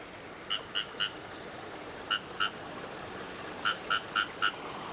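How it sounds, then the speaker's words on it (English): Frogs in terraced rice fields in a mountain village in Japan, several clear croaks in short spaced groups of two to four, moderately close over a steady ambient hiss. "the tadpoles are now frogs"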